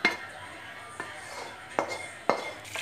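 Chow mein scooped from the pan onto a dish, heard as a handful of light, quiet clinks of a utensil against cookware spaced about a second apart.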